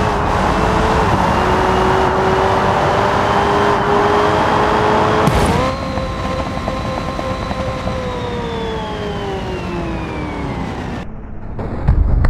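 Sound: Hennessy Venom car driving, from a video game

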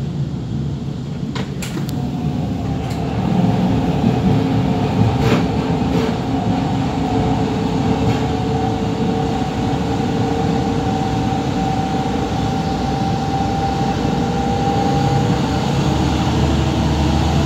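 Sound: diesel multiple unit train running

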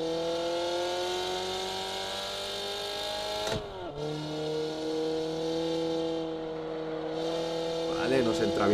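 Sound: BMW 325i E30 engine driving at Nürburgring, Assetto Corsa video game

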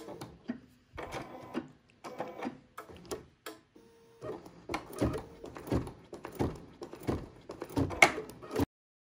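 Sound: BERNINA embroidery machine sewing placement stitches

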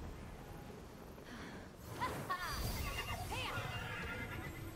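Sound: horse neighing in video game Immortals Fenyx Rising

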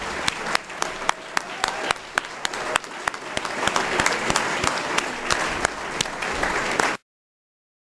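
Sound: audience applause

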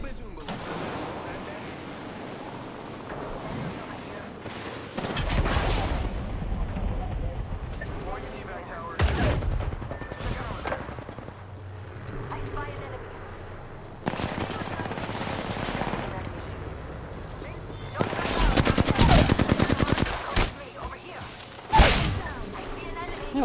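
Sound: Longbow sniper rifle shot in Apex Legends video game

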